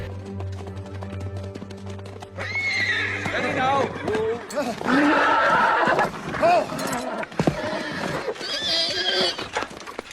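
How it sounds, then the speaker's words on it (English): Horses whinny and neigh several times over a soft clip-clop of hooves, fairly close, after a quiet opening with a low hum. "The horses neigh a little bit."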